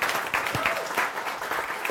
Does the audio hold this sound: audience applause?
yes